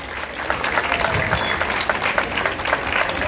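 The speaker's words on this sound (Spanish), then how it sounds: "Un aplauso, Doraceli." Crowd applauding the first-place winner of a women's 5K race category at an outdoor awards ceremony, brisk, lively clapping with some scattered crowd noise.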